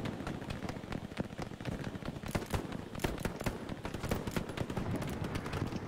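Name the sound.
sniper rifle gunshots in the video game Hell Let Loose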